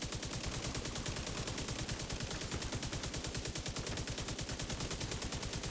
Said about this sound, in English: This is everything you want out of a machine gun.